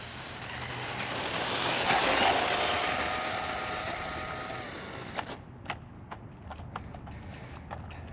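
A brushless Arrma Quake GROM RC car on a 3S battery makes a high-speed run, its motor whine rising to a loud peak and fading, followed by several sharp clattering knocks as it tumbles.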